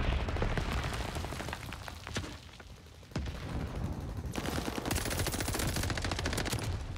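AS-44 rifle gunfire in the video game Call of Duty Vanguard: rapid automatic bursts crack repeatedly with dense explosive impacts, loud and close, a brief lull midway before firing resumes heavily.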